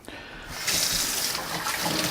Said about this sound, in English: Quick wash of the hands before we do the rest.